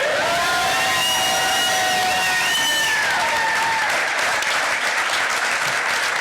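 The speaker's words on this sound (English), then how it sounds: "Please give her a round of applause." An election night crowd applauds the Attorney General's wife, Paige, with loud sustained clapping and cheering. Bright whistles and whoops rise above the applause during the first half.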